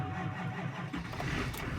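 Engine of a 2015 Duramax diesel pickup cranking in a -20 degree cold start, heard as a loud, close, laboring starter churn with uneven chugging and no catch yet.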